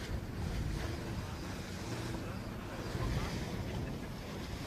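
Waves slap and rush against a racing sailboat during an Australian championship race, a steady broadband wash of water mixed with gusty wind noise on the microphone, close and continuous.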